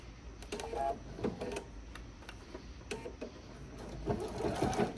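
A sewing machine stitches a reversible fabric bag in short, fairly quiet bursts of rapid mechanical whirring separated by brief pauses.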